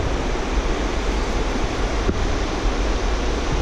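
The Nanaimo River flows past as a steady, dense rush of water, a broad continuous wash at close range with no voices.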